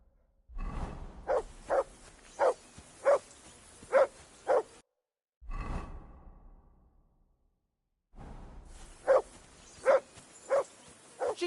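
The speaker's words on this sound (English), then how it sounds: "Jesus, Harry, that barking's driving me nuts" A dog barks in short regular bursts, several evenly spaced barks in two runs split by a silent gap, fairly close and clear.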